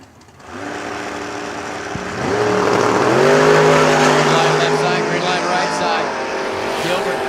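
American race cars at a short-track racing event roar past in a loud, rising engine snarl that swells and holds at close range as the pack passes, with the track announcer talking over it.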